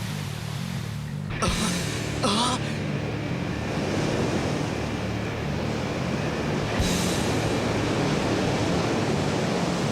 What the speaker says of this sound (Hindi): लहरें काफी तेज हैं।